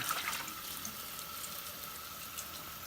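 Cold tap water runs steadily into a sink or bowl to rinse freshly picked parsley and basil, a soft, even rushing stream heard close with no talking.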